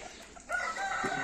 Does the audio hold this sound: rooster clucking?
yes